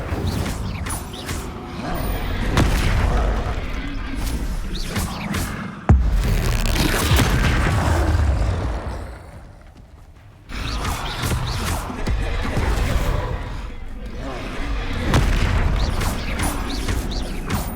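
Loud spell explosions from Incendio and Confringo in the Hogwarts Legacy video game, dense crashing booms and mechanical rumbles rolling almost continuously, with a brief lull before blasting resumes.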